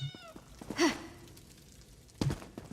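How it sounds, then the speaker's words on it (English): A cat in the video game Elder Scrolls Online gives one short, breathy meow, followed a moment later by a second brief cry, with quiet game ambience between. "I don't want to hit this cat anymore."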